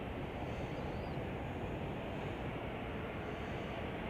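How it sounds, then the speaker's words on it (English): A United airliner landing at Chicago O'Hare, heard as a steady, broad jet roar that stays even and fairly faint throughout, with no voices. "We've got United 3472 coming in from Cincinnati."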